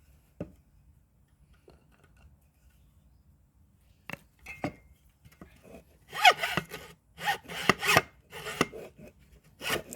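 A hand saw rasps through bamboo: a few isolated strokes at first, then a quick run of sharp, scratchy back-and-forth cuts close by.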